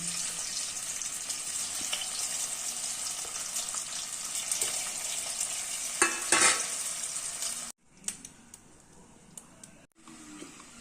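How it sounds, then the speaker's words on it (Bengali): Mung dal fries in a pan with a steady bright sizzle and a few stirring knocks; the sizzle cuts off abruptly near the end, leaving quieter scattered clinks. "মুগের ডাল ভেজে নিচ্ছি, একটু লাল লাল করে মুগ ডালটা ভেজে মোচার মধ্যে দিয়ে দেবো"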